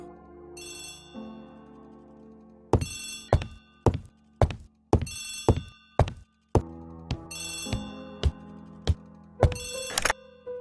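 An old-fashioned telephone bell rings in bright repeated bursts, with sharp clicking thunks scattered between the rings, close and clear in a quiet room.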